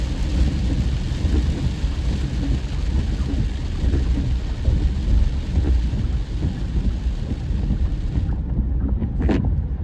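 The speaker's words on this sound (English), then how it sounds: "I've never been out here and it raining like this before." Heavy rain pours down steadily on a road trip toward Houston, Texas, in a dense, rumbling wash of noise, with low thudding undertones throughout before briefly dropping away near the end.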